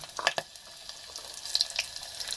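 Green chilies spitting in hot oil inside a clay pot, a soft broad sizzle with a few sharp crackles and pops scattered through, close by, with no voices.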